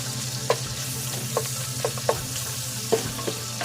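Onions fry in a pan with a little rendered fat after the meat, giving a close, steady sizzle with regular clinks and scrapes from stirring.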